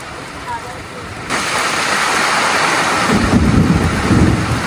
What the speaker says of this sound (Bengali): বৃষ্টি শুরু হয়ে গেছে বৃষ্টি আমাদেরকে স্বাগত জানাচ্ছে